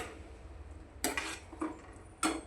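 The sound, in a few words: corn kernels being sautéed and stirred in a pan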